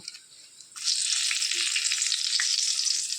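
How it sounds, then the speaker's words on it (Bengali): Bay leaf, a dried chilli, cinnamon and cardamom drop into hot fish-frying oil with a sudden sizzle. The crackling hiss then continues steadily. "মাছ ভাজার তেলের মধ্যে আমি এখন সম্বার দিব।"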